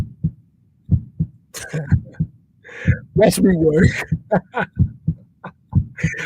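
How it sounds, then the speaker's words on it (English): A heartbeat thumps in a steady low double-pulse rhythm, close and prominent, while someone talks over it in bursts. "I'm glad to hear my heartbeat"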